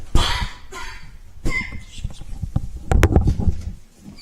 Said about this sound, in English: He's coughing to death.